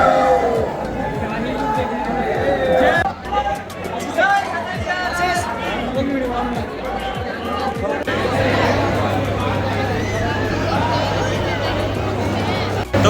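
Inside the packed Sanwariya Seth temple, a dense babble of many voices fills the space, loud and continuous, with footsteps and shuffling among the crowd and a low steady hum joining partway through.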